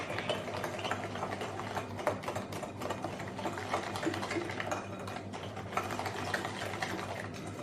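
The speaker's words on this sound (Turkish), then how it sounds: "Bir çay bardağı süt. tekrar çırpıyorum." Cake batter for a custard-filled cake, just loosened with a glass of milk, gets whisked in a bowl with rapid, continuous rattling and clicking strokes, close and busy throughout.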